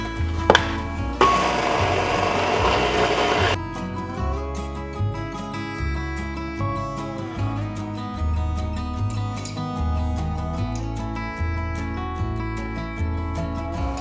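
A stand mixer kneads green pasta dough after flour is added, its motor humming steadily with a rhythmic low thumping as the dough turns in the bowl.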